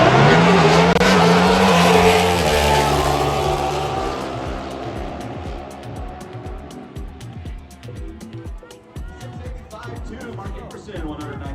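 NHRA Pro Stock motorcycles roar loudly down the drag strip, a dense high engine howl that fades and drops in pitch as the bikes pull away into the distance, with an announcer talking over it.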